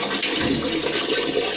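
Water gushes steadily from the tap of a Bajaj gas geyser, a continuous loud hissing flow with no break and no voices.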